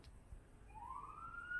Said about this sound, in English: If I had to guess, I think that's a police car.